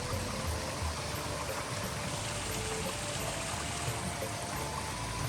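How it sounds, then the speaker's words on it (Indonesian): Spring water from a mountain source flows in a continuous stream through a roadside garden plot, a steady close rushing wash with no speech. "Nah, aliran air seperti ini. Ini langsung dari mata air pegunungan ya."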